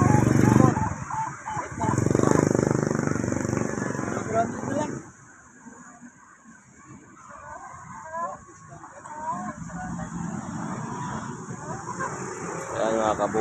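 Chickens at a Filipino poultry market, a faint clucking and fowl calls mixed into busy market noise under a vendor's loud talk, with a steady high whine running throughout.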